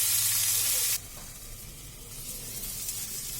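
Turmeric-spiced masala frying in a pan for a small-fish kachki curry, a steady close sizzle that drops abruptly in loudness after the first second and then continues as a softer, even hiss.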